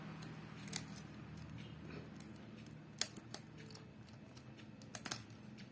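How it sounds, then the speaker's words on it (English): A knife cuts the thread on a PIU PAD controller, giving soft close scratching and a few sharp small snips and clicks over quiet background hiss. "Use knife and cut this thread."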